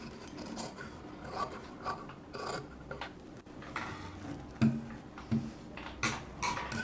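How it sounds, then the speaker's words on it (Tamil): Repeated rasping snips of scissors and rubbing of blades through cloth while cutting a chudidar, close up, in short irregular bursts with no talking. "மீதம் இருக்கிற கிளாத்தை கட் பண்ணி எடுத்துக்கலாம். பாருங்கள், இது போல் கட் பண்ணிக்கலாம்."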